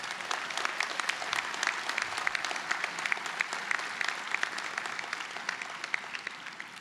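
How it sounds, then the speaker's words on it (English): Audience at a community college commencement claps steadily for several seconds, a dense even patter of many hands at moderate distance with no voices on top. "Let's have a round of applause for all of them."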